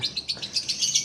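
Lovebird chirping in a quick repeated series of high, bright tweets, close and fairly loud, with no talking.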